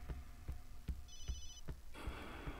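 A mobile phone in the video game Obscure gives a brief, high, rapidly pulsing ring over slow, heavy rhythmic thumps, then a burst of hissy noise.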